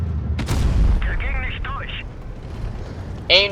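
Tank cannon fire in World of Tanks Blitz from a Projekt kpz. 07 P(E), a loud booming blast near the start followed by a ringing tail, with a shorter metallic crack near the end and someone talking throughout.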